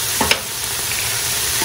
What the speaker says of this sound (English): Stir that up in there.